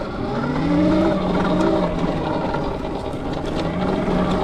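Evoltrix X7 electric dirt bike pulling away, a rising and falling motor whine with gliding tonal sweeps over rushing wind and ground noise, fairly close and loud throughout.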